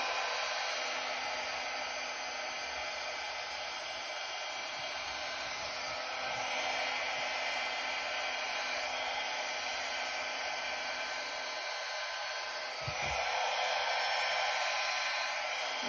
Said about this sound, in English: I'm gonna grab my blow dryer and on the cool setting, I'm gonna blow this out